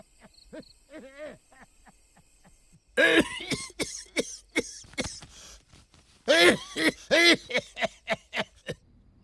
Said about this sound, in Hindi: अरे मेरे बस में नहीं है ये खांसी।